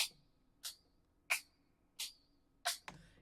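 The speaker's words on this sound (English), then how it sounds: "So this is without the lossy." Dry electronic hi-hat sample without lossy processing, five sharp isolated hits spaced evenly about two-thirds of a second apart, crisp and close with silence between strikes.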